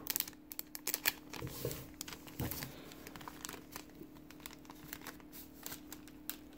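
Crinkly foil of a Pokemon Shining Legends booster pack being worked at to free a stuck card, a run of close, irregular crackles and rustles with no talking.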